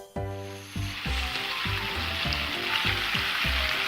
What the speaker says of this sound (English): So just simmer it until it's syrupy